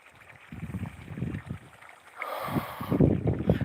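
Low, steady gurgle of water trickling along an irrigation channel in a sugarcane field, fairly faint, with a rougher rush building toward the end.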